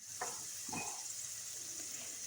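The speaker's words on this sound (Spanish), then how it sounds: "Vamos a sofreír la cebolla y el chile dulce con 1 cucharadita de sal." Onion and sweet pepper sauté in coconut fat with a steady high sizzling hiss, broken by a couple of louder stirring scrapes in the pan near the start.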